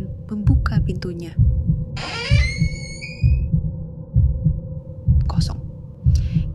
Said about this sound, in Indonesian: Jantungnya berdetak kencang.